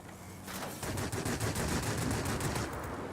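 Rapid bursts of gunfire from a Yak-3 fighter plane in the World of Warplanes video game rattle almost continuously for about three seconds, at a fairly low level.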